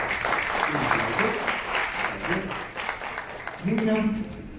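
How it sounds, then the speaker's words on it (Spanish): Sustained crowd applause fills a housing forum hall, a dense, even patter of many hands continuing throughout while a host's voice cuts in briefly near the end. "Un aplauso."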